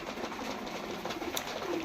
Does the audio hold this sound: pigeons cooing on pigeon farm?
yes